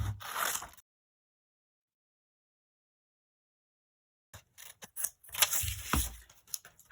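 Scissors cut out a paper square for a paper rose craft: a brief snip at the start, a long silence, then a run of close, crisp rustling cuts and paper handling.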